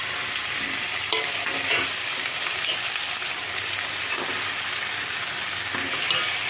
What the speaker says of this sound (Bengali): নাড়াচাড়া করব। এই সময় আঁচটাকে আমি মিডিয়ামে রাখবো।